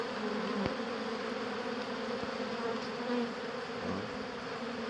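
Steady, dense buzzing of many honey bees close by at an apiary hive, a continuous droning hum with a few individual bees passing louder.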